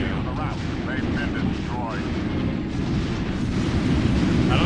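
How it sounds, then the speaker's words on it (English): A rumbling explosion from the 1999 PC space combat game X-Wing Alliance, a sustained low roar mixed with starfighter engine noise and faint chirping effects, while someone talks over it. "I think I just got caught in the explosion"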